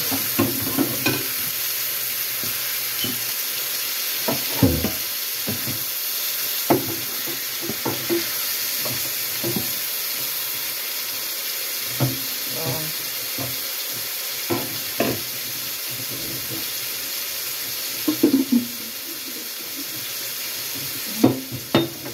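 Red peppers sizzle and crackle in a hot frying pan, a steady close hiss broken by scattered clinks and scrapes of stirring, with no voices.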